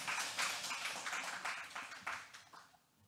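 Audience applause at an art-and-technology business presentation event: a short run of dense, even clapping that holds briefly, then thins and fades away within about three seconds.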